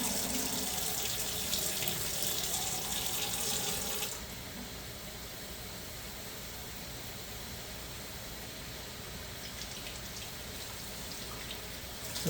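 Water runs steadily into a container being refilled during peach canning, a fairly loud broadband rush that stops abruptly partway through, leaving a quieter continuous flow or hiss.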